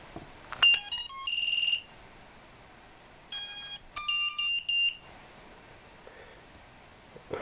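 Quadcopter electronic speed controllers, DYS Aria 35A ESCs driving RCX 2206 2400kv motors, sounding startup beeps after a LiPo battery is plugged in: a bright rising tone sequence, a pause, then two shorter beep bursts, loud and clear.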